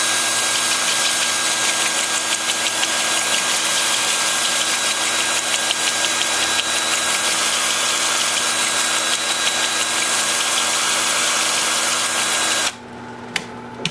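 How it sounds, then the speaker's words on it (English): A wood lathe runs in reverse at 350 rpm during bowl turning, giving a loud, continuous motor hum and hiss that holds steady before cutting off abruptly near the end. "Then with the lathe spinning in reverse at 350."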